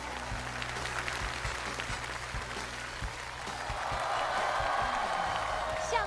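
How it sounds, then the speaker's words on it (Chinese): An audience at a televised Chinese Spring Festival gala stage show applauds steadily as a team is welcomed on stage, the clapping growing a little louder and fuller toward the end. "掌声有请 Tina 战队"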